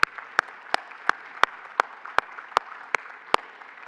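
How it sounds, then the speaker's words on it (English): Applause at an airport expo and job fair's opening remarks, heard as a run of sharp, evenly spaced claps about three per second, fairly close and alone over a low room hum. "So let's give them a round of applause."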